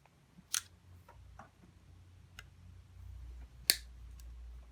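Wire being cut for a GTECH lithium-ion vacuum cleaner battery repair, a few sharp, faint snips spaced apart over a quiet background.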